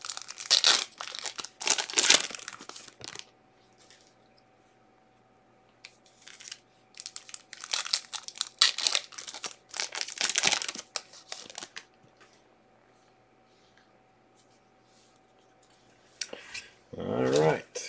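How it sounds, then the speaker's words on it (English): Packs of 2019-20 Panini Donruss Optic basketball trading cards are unwrapped with close, loud crinkling and tearing of the wrappers in several bursts, broken by quiet pauses. "Getting all the goodies unwrapped for you."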